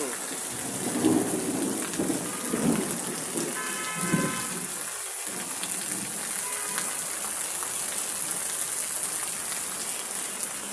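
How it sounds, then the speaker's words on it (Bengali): Heavy rain pours steadily in a dense hiss on a rooftop in Dhaka, with low rolls of thunder rumbling early on. "প্রচণ্ড বৃষ্টি দেখুন"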